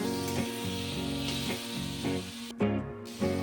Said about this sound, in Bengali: একদম ফাটাফাটি বেগুন ভাজা দারুণ লাগে খেতে